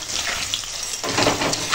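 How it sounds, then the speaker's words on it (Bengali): Potatoes fry in hot oil, giving a dense, close crackling sizzle that grows louder and fuller partway through and carries on steadily with no talking. "আলুটাও ভেজে নেবো।"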